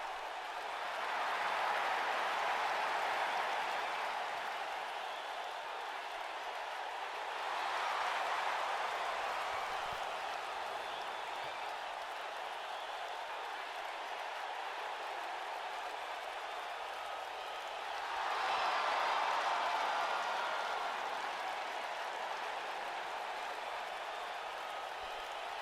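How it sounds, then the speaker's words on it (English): Crowd noise at a wrestling match, a steady broad roar with swells of cheering rising near the start, around eight seconds and again near nineteen seconds, filling the whole stretch without clear talk. "Everybody cheering for Kurt"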